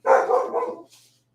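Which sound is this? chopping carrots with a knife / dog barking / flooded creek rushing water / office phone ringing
dog barking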